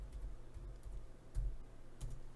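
Quiet keystrokes on a computer keyboard while entering a terminal command, a few soft, irregular taps over a low background hum with no talking.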